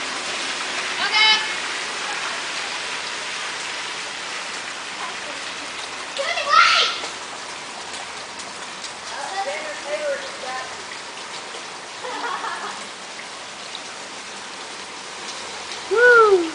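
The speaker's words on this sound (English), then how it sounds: "Everyone's playing in the rain." Steady rain falls in a continuous close hiss as children play outside in it, with voices and excited shouts breaking through at intervals.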